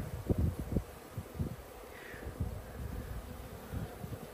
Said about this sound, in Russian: здесь не один вид пчелы. И желтенькие есть, карника есть